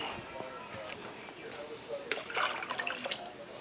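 Water being poured out to rehydrate freeze-dried Sweet Baby Ray's BBQ sauce, a soft trickling splash that grows brighter toward the end, with faint background noise and a voice nearby.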